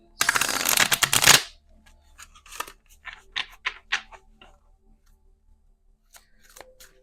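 A deck of tarot cards is riffled in a loud, dense burst, followed by softer scattered card taps and handling sounds.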